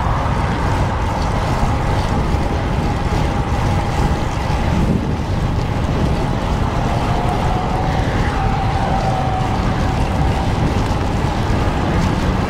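Steady, loud wind roaring across the microphone while a cyclist rides into a headwind on a road, a continuous broadband rush with no pause.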